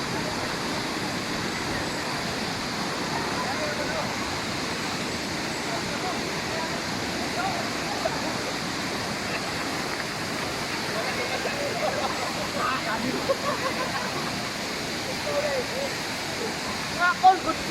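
A clear shallow stream flowing steadily in a scenic outdoor spot, a constant close rushing wash of water throughout, with occasional small splashes and faint talk.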